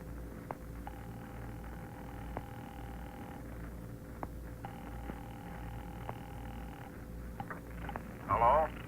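A telephone rings twice in a quiet house, each ring a steady buzzing tone lasting a few seconds with a pause between, over low background hum.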